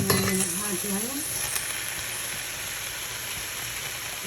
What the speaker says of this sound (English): And then I'm going to add the onions.